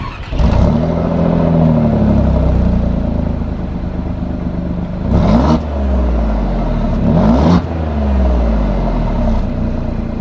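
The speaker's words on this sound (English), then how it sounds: "when you rev it, it's actually pretty quiet." An Alfa Romeo Giulia Quadrifoglio engine (503 bhp) revs from outside, rising and falling in several sharp pulls over a steady idling rumble, with no talking.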